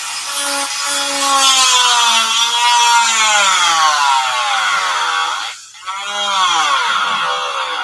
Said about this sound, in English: And I'll use the Dremel for that.